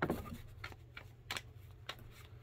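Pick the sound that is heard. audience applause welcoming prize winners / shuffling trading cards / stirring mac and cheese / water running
shuffling trading cards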